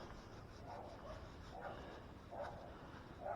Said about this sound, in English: Pardon the dogs in the background.